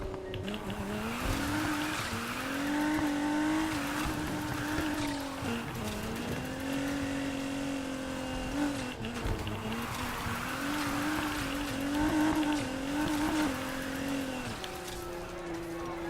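Car engine revving hard under a drift in the Need for Speed Heat racing game, a continuous loud whine that rises and falls with throttle, mixed with rubbery tire squeal as the car slides through corners.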